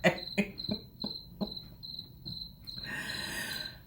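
Crickets chirping as a sound effect, a steady high-pitched trill with a few soft thuds at the start, quiet and alone without voices.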